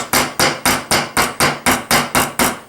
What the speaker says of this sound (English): using the round face of your hammer, you gently compress